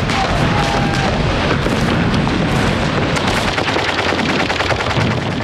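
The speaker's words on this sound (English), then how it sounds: "they were mown down by German machine guns" Machine-gun fire and explosions in World War II combat footage of the US 1st Infantry Division landing on the beach, a dense continuous barrage of rapid bursts and booms without talk.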